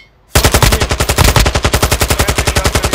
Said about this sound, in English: Sir, taking fire!